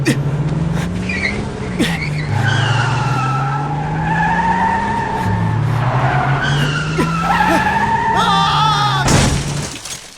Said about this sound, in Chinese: 完了，刹车失灵了！